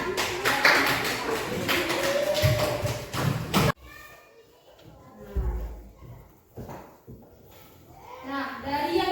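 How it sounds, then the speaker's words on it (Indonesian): A fourth-grade elementary school class in Indonesia claps together for several seconds, a dense burst of hand-clapping that stops abruptly, followed by quieter room noise with scattered taps and faint children's voices. "beri tepuk tangan"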